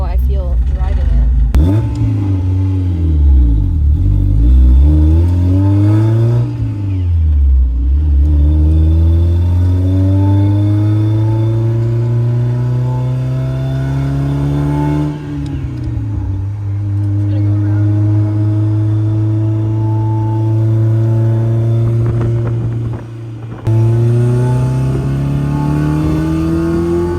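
A car with a BMW M52 engine revs hard while being driven, loud and close, its engine note climbing and falling repeatedly through gear changes with brief lifts between pulls.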